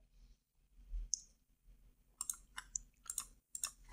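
Sparse, crisp computer mouse clicks, a handful of quiet single and double taps spaced irregularly in a quiet room, with no talk.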